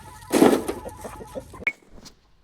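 Chickens being fed freshly cleaned greens, giving a few short clucks close by alongside rustling and a brief clink, over about two seconds.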